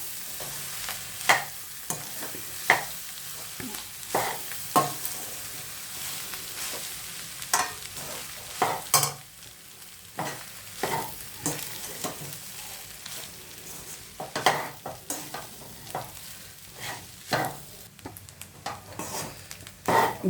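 Onion, pepper, egg and rice frying in a pan with coriander leaves, stirred with steady scraping strokes over a constant sizzle, close and fairly loud, with no talking.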